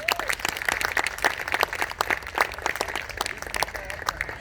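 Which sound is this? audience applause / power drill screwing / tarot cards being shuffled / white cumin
audience applause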